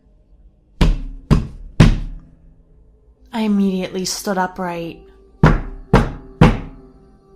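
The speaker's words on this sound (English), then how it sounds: "He was knocking at my front door." Knocking on a front door: three loud, heavy thuds in steady rhythm, then a short pause while someone speaks, then three more hard knocks closing the sequence, close and prominent.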